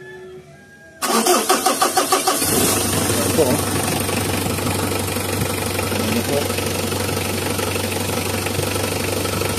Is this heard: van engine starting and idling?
yes